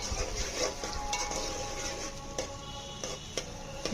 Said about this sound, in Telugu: నూనె వేడెక్కాక మనం కట్ చేసి పెట్టుకున్న పచ్చిమిరపకాయలు అలాగే ఉల్లిపాయలు వేసి మగ్గనిద్దాము